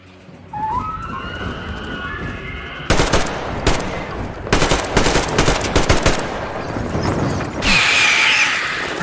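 Gunfire in the video game Metro Exodus, aimed at a swarm of bats: after a quiet start, loud rapid bursts of automatic fire rattle in several close strings, then a harsher noisy wash takes over at the end.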